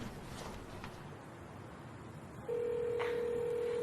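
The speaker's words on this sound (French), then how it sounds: "J'ai une idée, je vais appeler Leïla" Telephone dialing a call: soft background noise, then a steady electronic tone comes on and holds, with a faint beep, quiet and alone.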